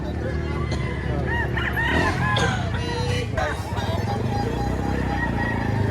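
A large rooster for sale at a poultry market in Padre Garcia, Batangas, gives several sharp, clucking and crowing calls amid busy, crowded market noise.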